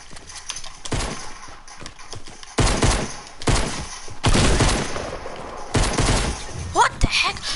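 Pistol gunfire in the Fortnite video game comes as repeated sharp bursts of shots at uneven intervals, loud and close, mixed with other in-game effects and a speaking voice.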